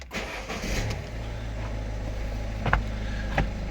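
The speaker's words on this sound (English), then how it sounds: "Let's start the car up," Vauxhall Vivaro van with an AdBlue emissions fault: the engine cranks and catches, then settles into a steady, fairly close idle, with a few brief clicks or knocks over the running engine.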